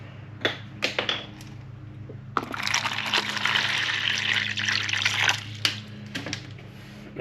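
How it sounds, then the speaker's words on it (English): Water poured for a pet monocled cobra, starting with a few sharp knocks and clicks, then a steady close trickle and splash lasting several seconds before tapering off into more light clicks. "I'm going to give her some water quick"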